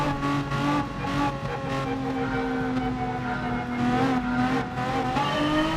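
Group 4 Renault Megane race cars roar through a Gran Turismo Sport race, a dense, loud blend of engine drone that rises and falls in pitch with gear changes, multiple cars running close together throughout.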